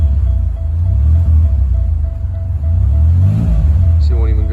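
A failing car converted into a boat car revs loudly and close, its engine rumbling in swelling surges with a brief dip, and a voice speaks near the end.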